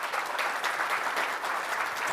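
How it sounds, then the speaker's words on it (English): An audience at a business summit customer panel applauds steadily, a dense wash of clapping that holds loud and even throughout the short stretch. "how about a huge round of applause for our panel?"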